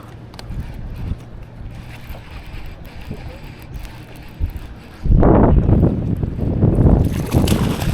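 Strong wind buffets the microphone on a boat out bass fishing, a steady roar that swells into a heavier rushing gust partway through.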